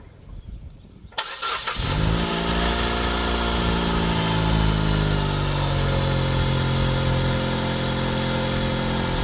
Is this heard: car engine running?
yes